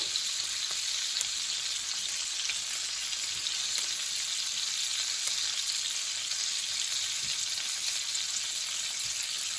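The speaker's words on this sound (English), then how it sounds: "Let the ham cook a little bit." Ham frying in a pan alongside pork and a sauce, a steady bright sizzle running unbroken throughout, with a few faint clicks and pops, close and fairly loud with no talking.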